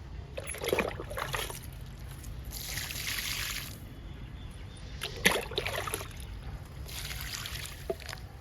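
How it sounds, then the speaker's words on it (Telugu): Tomato plants in tubs are watered with several separate bursts of splashing and pouring, each followed by quieter gaps, over a steady low background hum. "ఇప్పుడు యాభై రూపాయల టబ్స్లో ఉన్న మొక్కలకి వాటర్ ఇచ్చేద్దాము"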